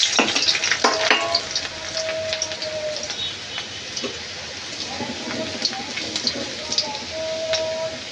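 Chopped garlic frying in hot oil in a kadai, a steady close sizzle with crackles and spits running throughout, with occasional faint tones and light background sounds.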